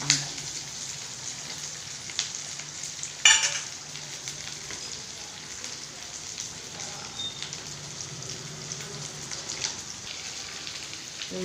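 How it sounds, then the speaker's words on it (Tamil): Onions and garlic sauté in a pan for a curry, with a soft, steady sizzle and faint crackle, plus an occasional clink of a utensil. "இந்த வெங்காயத்தெல்லாம் அதில் போட்டு சேர்த்து வதக்கிக்கணும்"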